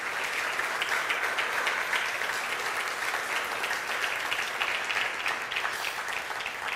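A church congregation at an evening service applauds steadily, a dense, sustained wash of many hands clapping that holds at an even level from start to finish.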